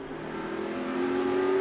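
NASCAR Nextel Cup race cars at the 2007 Daytona 500, heard from inside Dale Earnhardt Jr.'s car as the engine climbs in a rising, steady whine, loud and close, with no talking.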